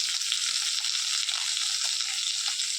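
Steady, fairly quiet sizzling of onion and mustard seeds frying in hot oil, a continuous hiss with faint stirring underneath and no voices.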